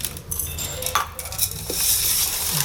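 Salt is rubbed by hand over cut, cleaned fish at a night fish market in Madurai, giving a wet, gritty scraping and squelching close up. Scattered metallic clinks and a busy background hiss run beneath it.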